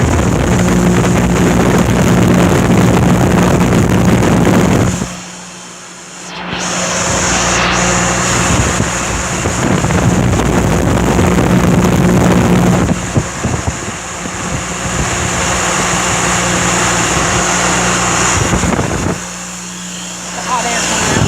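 A homemade shop fan with a restored motor runs hard, producing loud, roaring wind and motor drone that buffets the microphone, briefly dipping twice.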